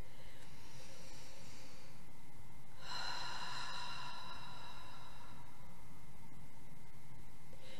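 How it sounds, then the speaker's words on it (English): During an after-work EFT tapping session, a person draws slow, deep breaths close to the microphone, with one long, loud airy inhale and exhale standing out over a soft hiss. "Take a nice deep breath."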